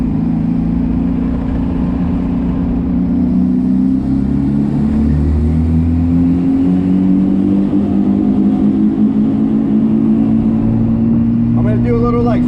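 A turbocharged D16 engine in a Suzuki Vitara build pulls hard in second gear from a brake-boosted roll at around 40 mph, a loud, steady, rising drone heard from inside the cabin, with a short squeal or chirp near the end.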